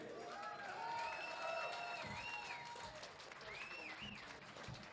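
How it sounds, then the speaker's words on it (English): A crowd at an outdoor rally in Trafalgar Square, London, applauding and cheering at a distance for about five seconds, with a voice speaking over the clapping. "So let's give a warm round of applause for Phil Booth."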